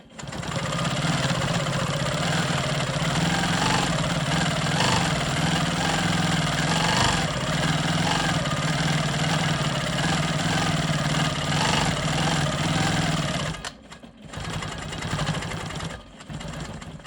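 A sewing machine runs steadily at close range as ribbon candy is quilted, holding a continuous whir for about fourteen seconds before stopping briefly and starting again in short bursts.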